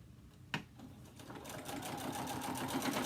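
A sewing machine stitches a mini quilt, starting after a short click and running steadily in a soft, continuous whir close by.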